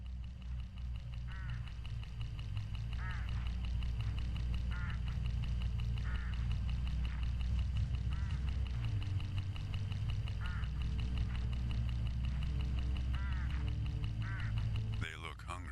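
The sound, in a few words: hooded crows along a road in video game Hitchhiker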